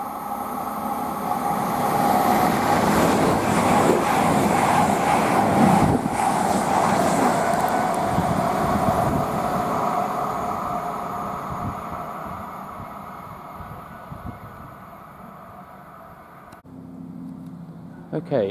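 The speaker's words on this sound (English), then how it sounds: "we've got a Bournemouth to Manchester Piccadilly pair of Voyagers" A pair of Voyager diesel trains, a Bournemouth to Manchester Piccadilly service, roars past Goring & Streatley on the Great Western Main Line, a loud sustained rumble that slowly fades before an abrupt cut.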